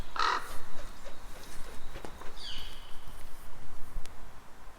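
Crows caw in a short burst of harsh calls near the start, then fainter scattered caws follow, played as a storybook sound effect over quiet background.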